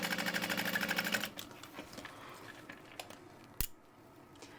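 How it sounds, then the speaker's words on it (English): A sewing machine top stitches card slots on a wristlet, running in a fast, steady rhythmic burst of needle strokes for about a second before stopping, followed by faint handling clicks. "I'm gonna start top stitching my card slots."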